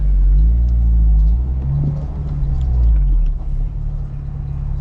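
A manual transmission car pulls away from a stop under throttle without a blip. A loud, close, low engine rumble rises and falls steadily, with no talk.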